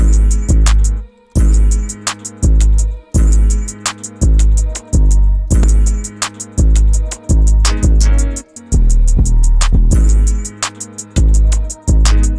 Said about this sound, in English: I was not expecting something from the OP1 to sound like this